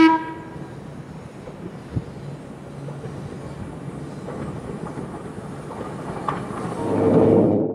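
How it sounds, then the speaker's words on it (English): Single steel interurban electric railcar of the Northwestern Pacific departing San Anselmo toward San Rafael, a steady rolling rumble with a horn toot near the start and the sound swelling toward the end as the car passes. "A single steel car leaves San Anselmo heading for San Rafael."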